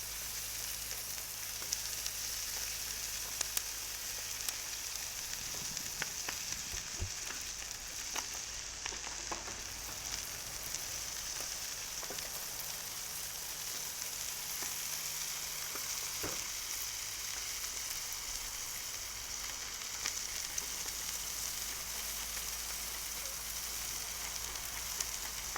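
Brussels sprouts and broccolini sizzle on a griddle, a faint, even, steady hiss with occasional soft pops and light ticks, no voices.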